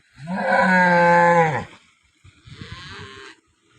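A cow in Tharad, Banaskantha, Gujarat moos loudly and long, a deep drawn-out call, followed by a softer, shorter lowing sound after a brief pause.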